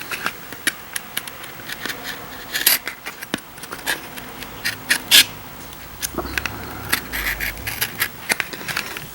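Scissors cut through a paper glider in a run of quick, crisp snips and scratchy paper rustles, close and fairly loud, with no talking.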